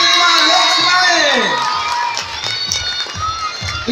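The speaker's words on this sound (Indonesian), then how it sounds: "Tepuk tangan sekali lagi untuk SMP 5 Loksmae." A school audience cheers and shouts at a boys' fashion show at a junior high school, with a loud sustained roar of young voices and whoops, while a person's voice talks over the noisy crowd.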